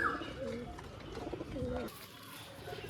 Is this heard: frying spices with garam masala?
no